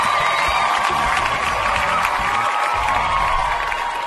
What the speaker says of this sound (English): That deserves a little cheering.